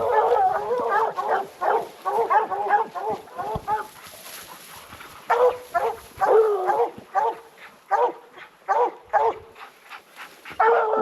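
Hunting hounds that have treed a bear bark and yip in quick, loud bursts nearby, with whimpering between the volleys and someone talking over them.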